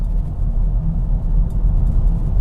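A VW Golf GTE plug-in hybrid pulls away in electric battery mode, giving a steady low road rumble and faint drive hum from inside the cabin, with no combustion engine note.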